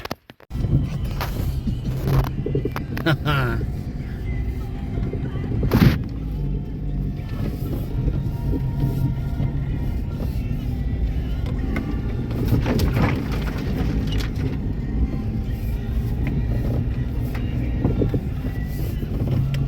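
A small car driving along a rough Ukrainian off-road dirt track, with a steady low rumble and wind buffeting that runs throughout, plus occasional jolts and bumps.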